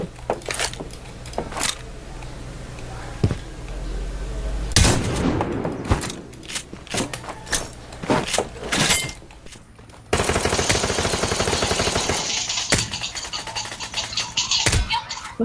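Rapid gunfire from a Counter-Strike match, with bursts of automatic shots and single cracks over a steady game hum, loud and close, and a denser volley near the end.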